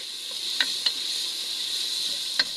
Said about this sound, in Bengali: আমি প্রথমে পেঁয়াজ মরিচটা একটু ভেজে নিব